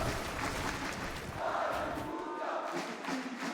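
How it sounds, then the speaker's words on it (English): The crowd at an esports Fortnite tournament cheers and roars as a dense, sustained wall of voices in a large arena, with brief shouts rising out of the steady noise. "cheering for anybody on the MA or Havoc squad, letting them know, like, hey, take our energy, you guys have this."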